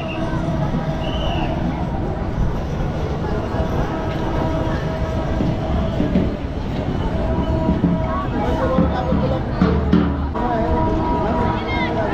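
Passenger train on the line to the Thakurnagar fair, rolling steadily with continuous rumble and clatter throughout, a crowd's babble and people talking mixed in.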